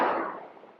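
A single firecracker bursts during Diwali celebrations, a sharp bang that fades quickly over less than a second.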